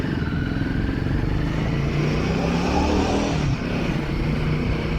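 A KTM 390 Adventure X motorcycle engine runs steadily while riding, a continuous mid-pitched drone with wind rush, the tone dipping briefly as the engine eases off near the end.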